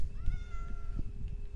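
A Minecraft cat gives a single short, clear meow, close and alone.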